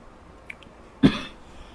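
A single sharp cough, close and loud, breaks a quiet background after a couple of tiny clicks.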